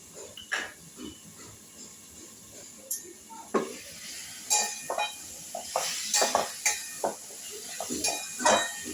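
Repeated scraping and clinking of a utensil against a pan, irregular stirring strokes over a faint sizzle as sugar and fried cumin paste are cooked before prawns go in, growing busier toward the end.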